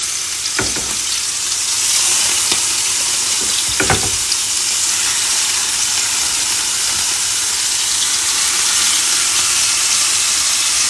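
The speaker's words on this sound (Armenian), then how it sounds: "նոր կոտլետները դնում ենք տաք յուղի մեջ" Cutlets sizzle in hot butter and oil in a pan, a steady close frying hiss with a few sharp crackles and pops near the start, continuing evenly with no talking.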